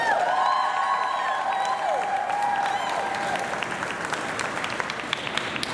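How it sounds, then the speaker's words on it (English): A crowd at an International Working Women's Day rally in Philadelphia applauds steadily with scattered cheers and whoops, the clapping dense and sustained throughout before thinning slightly toward the end. "So make some noise for Kaden."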